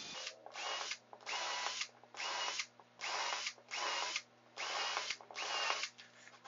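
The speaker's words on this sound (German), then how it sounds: "Nun bohren wir die Bohrpunkte vor." A power drill whirs in about eight short, even bursts with brief pauses between them, drilling pilot holes into very hard wood, close and fairly loud, with no talking.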